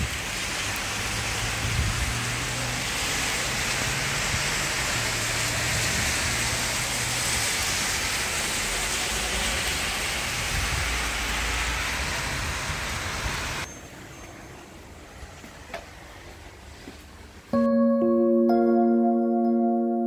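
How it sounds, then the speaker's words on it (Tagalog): Heavy rain in Abu Dhabi pours down steadily for most of the stretch, then thins to a lighter hiss before a clear, tonal electronic sound takes over at the end. "It's raining. Ang lakas ng ulan."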